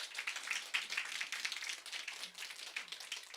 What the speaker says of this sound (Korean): 격려의 박수 한번 좀 쳐드릴까요?